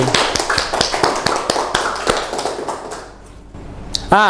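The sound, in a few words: class applause for Mas Fendi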